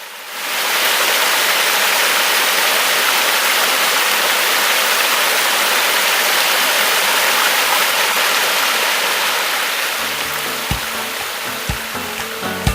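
Byeongpung Falls on Gangcheonsan roars as a steady, loud, broadband rush of falling water heard close up, easing slightly near the end as a few faint low knocks appear.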